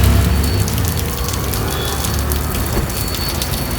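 Rain pours down hard outside Karkala's municipal building, with water streaming from the roof. It makes a loud, unbroken patter and splash close by, heaviest at the very start.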